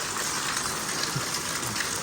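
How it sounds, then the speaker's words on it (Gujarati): Heavy rainwater gushes and overflows into a pooling area during a downpour, making a steady, loud broadband rush that continues unbroken throughout with no talk. "અહીંથી પાણી છલકાઈને બધું અહીંયા જમા થાય છે"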